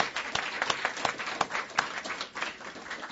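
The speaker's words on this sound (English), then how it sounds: "how about a big round of applause for the winners?" A room of people at a charity ball press conference applauds scholarship winners, with distinct individual claps audible in a moderate, fairly sparse round of clapping.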